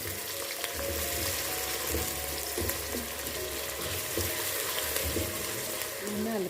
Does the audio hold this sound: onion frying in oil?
yes